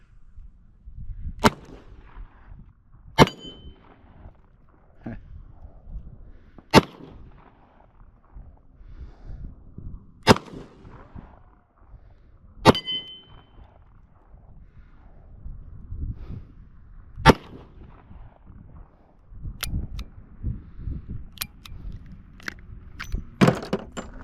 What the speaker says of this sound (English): Model 29 in 44 mag. The Dirty Harry gun. Not a very pleasant gun to shoot.